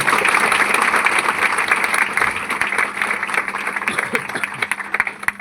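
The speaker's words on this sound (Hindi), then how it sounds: "ताली बजा लो अपने साथ के लिए" Audience applause at a talk, steady dense clapping that fills the room and then thins out toward the end.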